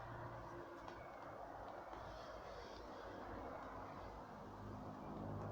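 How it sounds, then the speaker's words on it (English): A car with a poor exhaust system drives past at night, a steady broadband rumble and hiss that swells slightly toward the end, heard alone with no talking. "Some fucking piece of shit car going past."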